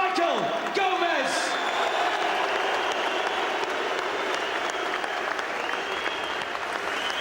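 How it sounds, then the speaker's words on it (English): A boxing arena crowd applauds after a fight between Amir Khan and Michael Gomez, a dense, continuous wash of clapping and cheering that holds steady throughout, with an announcer's voice heard over the crowd. "A round of applause for the gallant Michael Gomez."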